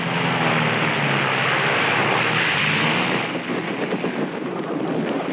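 A loud, steady propeller airplane drone roars continuously overhead in a snowy setting, rumbling and slightly shifting in tone toward the end.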